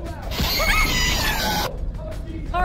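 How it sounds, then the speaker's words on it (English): A loud, harsh scream rings out in a horror video game, with a grinding, shattering burst that cuts off abruptly and leaves quieter noise after it. "There is something screaming so loud"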